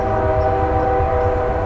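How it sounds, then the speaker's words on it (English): A train passing close by, a loud sustained horn-like tone held steady over a deep continuous rumble, filling the whole moment with no voices. "they'll hear the train going, and for some reason the microphones pick up the train sound better than us"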